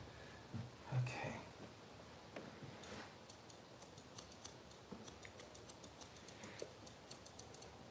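Rapid, regular snipping of scissors trimming a Boston Terrier's matted fur, a steady series of quiet crisp cuts close by, with a few soft murmurs early on.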